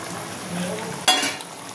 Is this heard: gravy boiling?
yes